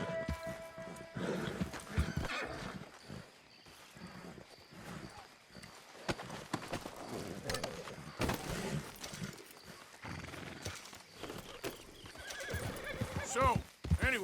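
A horse in Red Dead Redemption II neighs and whinnies while its hooves clop and scuffle, with loud bursts scattered across the clip, under and between stretches of spoken dialogue.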